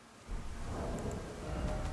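Rain and thunder in the game Elden Ring: a dense, steady wash of rainfall with a low rumbling thunder roll underneath, close and even throughout, with no talking.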